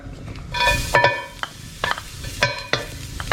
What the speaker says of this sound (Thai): เราก็มาลงเป็นกระเทียมสับนะฮะ